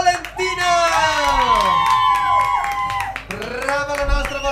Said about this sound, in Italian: Voglio un grande applauso per lei, Valentina!